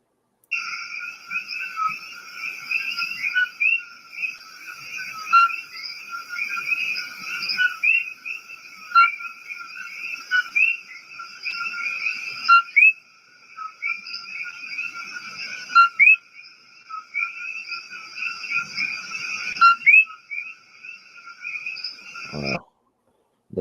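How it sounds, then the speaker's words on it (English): Tiny frogs give repeated high, bird-like whistling calls, several overlapping in steady chirping bursts throughout, fairly close and clear, ending with a brief low thump. "They sound more like birds than what I would think a frog would sound like."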